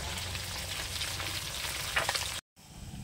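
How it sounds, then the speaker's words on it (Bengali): Fish frying in a pan gives a steady, close hiss and crackle of hot oil, continuous and unbroken apart from a brief cut near the end. "মাছগুলো কিন্তু ভাজা বসিয়ে দিয়েছি"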